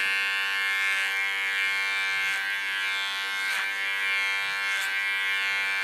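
A large electric hair clipper hums steadily and close while trimming the contour behind a woman's ear during a short haircut, with a continuous high buzz and faint periodic swells.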